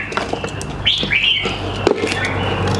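A hwamei songbird at a northwestern Vietnam bird market gives a few quick bright whistled chirps up close, over a low murmur of market background.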